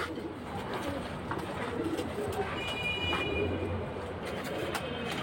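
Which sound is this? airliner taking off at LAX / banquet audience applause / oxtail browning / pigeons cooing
pigeons cooing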